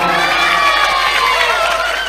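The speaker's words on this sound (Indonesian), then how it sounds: "kasih tepuk tangan dong" A crowd at an evening religious gathering with a hadroh group, applauding and cheering together in a loud, dense, steady roar of voices and clapping that fills the whole moment.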